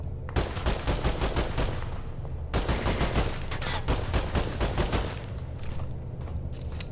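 Rapid carbine gunfire in the shooter game ADACA, crackling in fast, dense bursts with only a brief gap, loud and close throughout.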